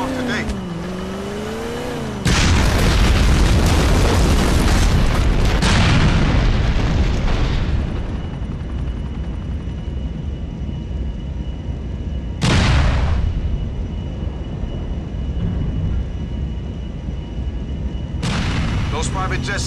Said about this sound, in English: Reports of an explosion in transit international.